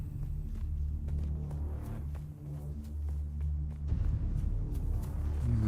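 Low, heavy rumble of an approaching sandstorm in the survival game Dune: Awakening, a continuous deep roll that thickens and surges toward the end, with faint clicks scattered above it.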